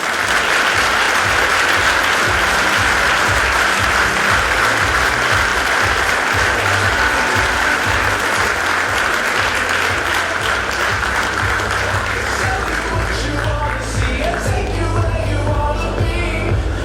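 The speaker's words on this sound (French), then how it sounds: "on peut l'applaudir" An audience at a New Year greetings ceremony applauds a first-place gold medal winner, the loud, dense clapping sustained without a break for the whole stretch.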